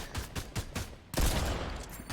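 A few quick sharp shots pop in succession, followed by a louder blast with a trailing roar of noise, like Fortnite video game gunfire.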